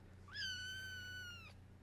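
A cat gives a single drawn-out meow, rising at the start and held for about a second before trailing off, close and clear over a quiet low hum with no voices.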